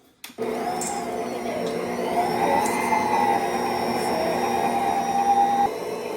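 An electric mixer runs on low speed through vegan brownie batter, giving a steady, close whirring hum that starts after a brief click and continues evenly for several seconds before cutting off.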